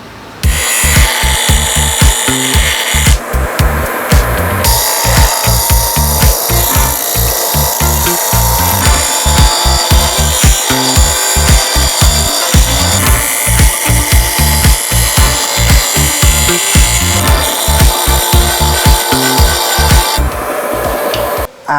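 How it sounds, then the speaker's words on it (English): Bench grinder grinding metal tabs to a point on a Geo Tracker project, a loud continuous abrasive whine with rapid rhythmic scraping pulses for about twenty seconds, close and without talk. "Let's take a couple of these tabs to the bench grinder, make them pointy so that they lay right there."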